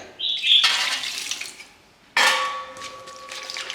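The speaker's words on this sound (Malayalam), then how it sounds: "ഇനി ഇതിലോട്ട് ആദ്യം കുറച്ചും കൂടെ" Two splashy bursts of water poured into a vessel to wash homemade butter for ghee, the second followed by a ringing trickle as it settles.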